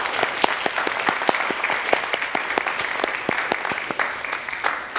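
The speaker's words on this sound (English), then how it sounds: "Could we give Mrs. Harris a round of applause?" An audience at a middle school Veterans Day program applauds a veteran who served in the Air Force, steady dense clapping from many hands, fairly loud and continuous throughout.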